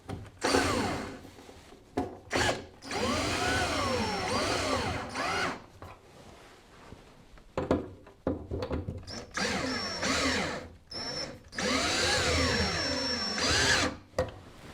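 Power drill driving screws into sink countertop clips, under the counter of an overland vehicle build, in repeated close bursts of whirring with short pauses between runs, loud and without talk.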